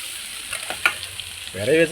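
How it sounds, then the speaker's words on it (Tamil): Fish tossed into a hot pan and frying for Tamil-style fish puttu with greens, a soft sizzle with brief stirring scrapes, growing louder as the pieces hit the oil near the end. "இப்போ மீனை சேர்த்துக்குவோம் வர வச்சிருக்கிற மீன் சூடாக இருக்கா தூக்கி போட"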